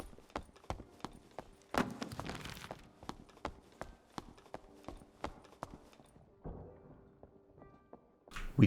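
Another player's footsteps in the dungeon game Dark and Darker thud in a steady repeated rhythm of sharp knocks, fairly faint and quiet, with no talk over them.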